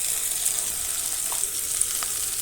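Potatoes and cauliflower frying lightly in a pan make a soft, even sizzle that holds steady, with a couple of small ticks and clinks, close and alone.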